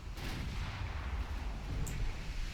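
Torpedoes strike a battleship during a naval battle in the warship game Ultimate Admiral Dreadnoughts, producing a steady, heavy low rumble of muffled explosions with no clear separate blasts.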